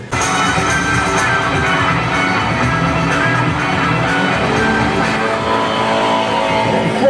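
A stunt car drifts at full throttle, its engine roaring loud and close while the tires squeal continuously through the slide.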